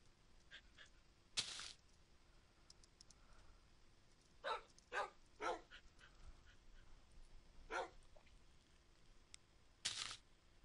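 A dog barks in the video game Minecraft, with short, quiet barks recurring irregularly among the game's clicks and other brief sounds.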